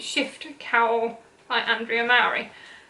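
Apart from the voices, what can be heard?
No everyday noise stands out behind the speech.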